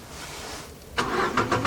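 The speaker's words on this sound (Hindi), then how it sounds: "बहुत ही माइनर सा यहाँ पर गियर नॉब वाइब्रेट हुआ और गाड़ी स्टार्ट हो गई" A Renault Kwid hatchback engine starts about a second in after a quiet interior hush, a short crank followed by a brief surge and settling idle, close and moderately loud.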